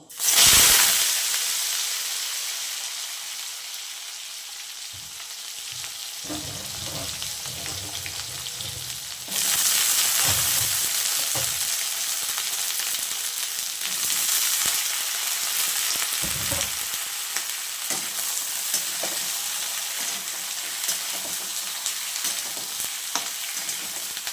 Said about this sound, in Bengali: এবার আমি দেখো পাঁচ ফোড়নের উপরে আমি এবার ডাঁটাটা দেব।